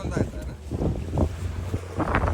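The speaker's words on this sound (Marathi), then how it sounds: "लय बोट आपटते" A boat at sea off the Konkan coast thuds repeatedly against the waves, with rhythmic low hull impacts under heavy wind noise and voices talking nearby.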